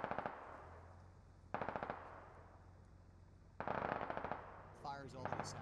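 Gunfire in the military shooter Squad comes as two rapid automatic bursts, distant and moderately loud, with a brief radio-like voice near the end.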